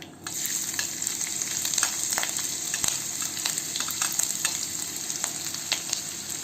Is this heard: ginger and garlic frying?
yes